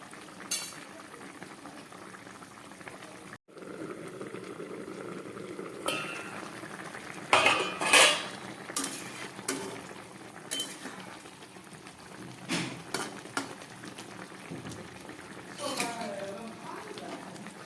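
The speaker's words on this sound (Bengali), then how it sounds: "ধনে পাতা দেওয়ার পর আরও এক দু মিনিট ফুটুক" A thin rohu fish curry with potatoes and coriander leaves simmers in a kadai, bubbling and spluttering steadily at moderate volume, with scattered clinks and an occasional voice over it.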